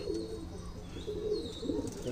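Soft, low coos from Madrasi pigeons repeat in a gentle rhythm, close by, with a faint hum in the background.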